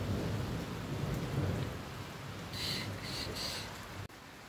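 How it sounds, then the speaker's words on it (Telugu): Rain pours steadily outdoors with a low rumble of thunder rolling underneath, a constant wash of falling water at moderate level, briefly joined by faint higher tones near the end. "ఉరుములు మెరుపులు"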